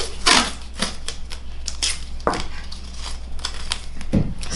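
Adhesive tape being pulled from the roll and torn off during a silhouette painting craft, giving a few sharp ripping bursts and crackles, close and fairly loud, with no talking.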